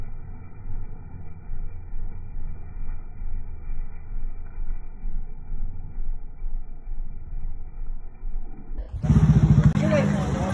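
A small-displacement motorcycle pulls into a riders' checkpoint, its engine note rising abruptly near the end after a steady low idling rumble, loud and close.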